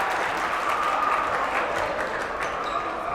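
Crowd applause and cheering fill a ninth-grade basketball game between Holmes and Peet, a steady, dense wash of clapping and crowd noise throughout with no break.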